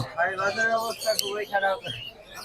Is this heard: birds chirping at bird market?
yes